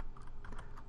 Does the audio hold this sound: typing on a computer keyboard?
yes